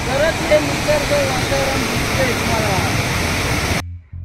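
Kumbhe waterfall pours in a dense, steady roar of falling water heard from a viewpoint, loud and unbroken before cutting off abruptly near the end.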